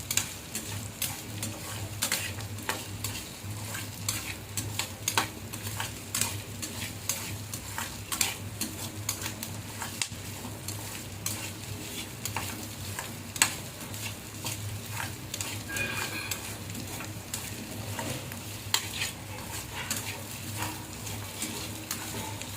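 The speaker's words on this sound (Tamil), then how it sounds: "எல்லாம் சிம்மில் வச்சு தான் வறுக்கணும்." Mutton curry frying on a low flame with 50 ml of oil and onions, a soft steady sizzle under repeated scraping stirs and occasional light clinks of a spoon against the pan.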